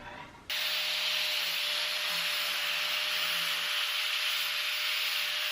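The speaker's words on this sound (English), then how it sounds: "I'm going to use an 80 grit flap disc on my angle grinder, and that's going to just reduce that sharp edge" An angle grinder with an 80 grit flap disc smooths a sharp cut edge on a rolling library ladder part. It starts up abruptly, then holds a loud, steady, close grinding whine with a constant tone for several seconds, and no one speaks.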